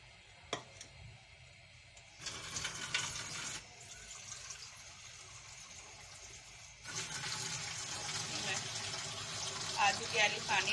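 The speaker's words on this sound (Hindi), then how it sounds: "आधी प्याली पानी डालूंगी।" Half a cup of water is poured into a pan holding plums and soaked tamarind for a chutney, heard as a soft, steady splashing and hiss in the latter half while someone talks.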